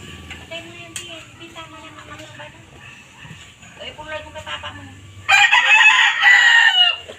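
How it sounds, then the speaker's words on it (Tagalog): Chickens clucking and a rooster crowing loudly near the end, with a person talking over the birds early on. "ito lang po ang mga manok ko"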